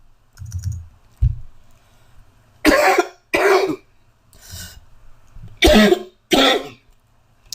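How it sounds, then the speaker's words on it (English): A person coughs on a webinar in a series of sharp bursts, a pair and then a single and another pair, loud and close. Faint clicks and throat noises come between the coughs. "I feel a cough coming on."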